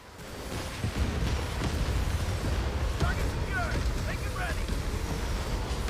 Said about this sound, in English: So we'll bombard these guys.